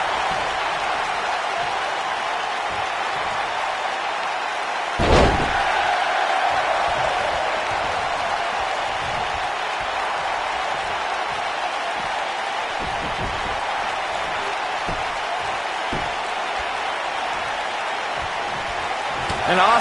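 Crowd cheering and applause from a wrestling video game, a steady roar of noise throughout with a sharp thud around the five-second mark and commentators talking over it.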